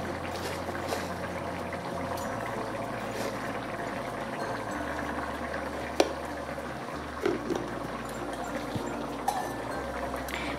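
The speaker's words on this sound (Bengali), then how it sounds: "ফোড়নের সঙ্গে তরকারিটা আমি কিছুক্ষণ ফুটিয়ে নেব।" Pumpkin-leaf curry with jackfruit seeds and tempering simmering in a pot, a steady low bubbling boil with occasional faint pops, close and continuous without talk.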